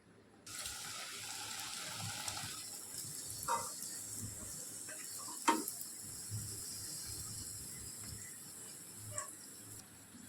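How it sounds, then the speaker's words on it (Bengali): Snacks frying one at a time in hot oil, a steady sizzle running throughout with soft clinks and stirring bumps of a utensil scattered over it. "আমি এবার একটা একটা করে ভেজে নেব।"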